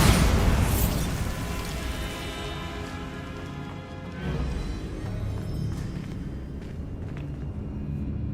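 A Bombarda spell explosion in the video game Hogwarts Legacy: a loud opening boom and burst that dies into a long rumbling, crackling tail with scattered debris-like clatter, no talking.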